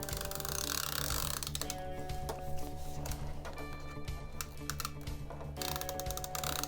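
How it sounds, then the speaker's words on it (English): A tape gun on a paper pop-up Easter card makes close, quick rattling clicks and ratcheting ticks over a steady low hum. "So with my tape gun, we're just going to get some tape on."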